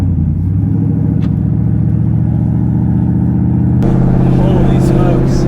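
A 2021 Ford F150 fitted with a Whipple supercharger drives along with a loud, deep engine rumble and throaty pulsing. The sound shifts slightly as the truck accelerates, and a voice talks in places.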